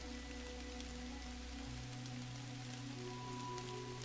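Steady rain falls in the pixel-art adventure game Kathy Rain, a constant soft hiss of drops on the ground beneath low droning background music, with no voices.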